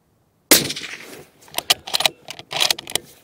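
A single sharp rifle shot from a Sako 90 Peak Carbon firing Federal ammunition cracks loudly outdoors after brief silence, trailing into a decaying echo followed by several short clicks and rattles.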